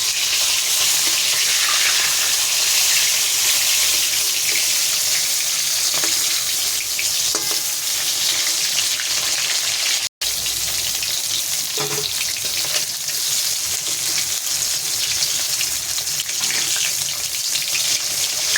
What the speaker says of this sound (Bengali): মাছটা এখন লাল লাল করে ভেজে নিতে হবে সেটা